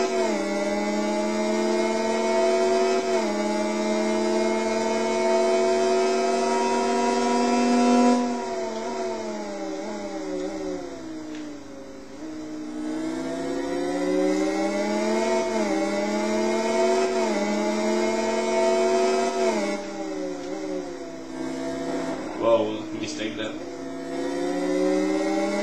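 An enduro motorcycle engine in the Riding Spirits 2 racing game, buzzing loudly and steadily as it climbs through short gears with repeated rising pitch sweeps and brief drops at each shift.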